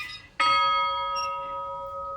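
A single bright strike on a bell rung by a woman, part of a collection of bells from different countries, sounds close and loud, then sustains a steady, shimmering ring that decays slowly.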